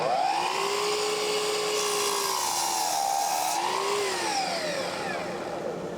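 A power saw cuts decorative crown molding trim in a woodshop, a loud continuous whining buzz with a steady pitch that dips and rises as the blade bites through the wood, close and alone.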